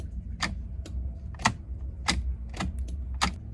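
A faulty turn signal relay (flasher unit) in a Mazda Miata NB gives a handful of sharp, dry clicks at uneven intervals, close and fairly loud, with no other sounds.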